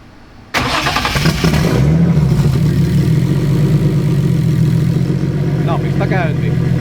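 Pro2 drift car engine fired by push button, catching abruptly with a loud burst and then settling into a rough, throbbing idle close by, with a voice talking over it.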